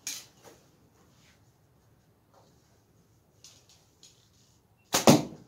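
Wooden arrows shot at a board during an outdoor shooting contest: quiet stretches with a few faint taps, then a sharp, loud impact thud near the end.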